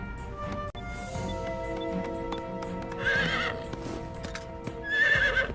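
A horse whinnies and neighs twice, loud and near, with hoof clip-clops and tonal background sounds, all in a dramatized scene.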